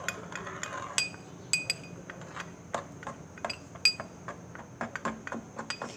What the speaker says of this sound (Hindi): अब इसको मिक्स कर लेंगे